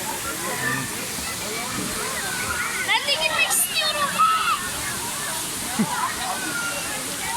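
Water pours steadily at the Sabun Çayı waterfall in Düziçi, Osmaniye, a constant broad rush under a brief spoken phrase and scattered splashes.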